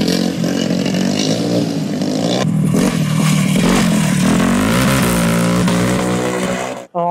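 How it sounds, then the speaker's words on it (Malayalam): A student-built go-kart powered by a Honda X3 160 motorcycle engine revs loudly and close up at an expo, snarling and rising in pitch continuously before cutting off abruptly near the end. "ഹോണ്ട X3 160 എന്ന് പറഞ്ഞ ബൈക്കിന്റെ എഞ്ചിൻ വെച്ചാണ് കാർട്ട് പണിതേക്കുന്നത്"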